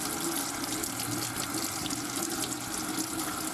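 Non-organic, carrot-like vegetable washed under a running tap in a kitchen sink: a steady, close splashing rush of water that holds constant throughout, with no talking.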